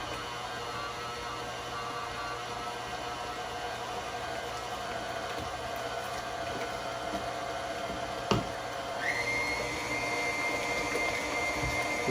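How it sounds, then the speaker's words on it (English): A KitchenAid stand mixer whips mashed potatoes with milk, giving a steady motor whir and faint churning at moderate volume that shifts slightly higher in pitch near the end. "Love the KitchenAid mixer."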